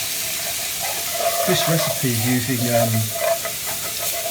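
Frying sizzle hisses steadily as garlic browns too quickly in an overly hot pan, with a person talking over it at close range.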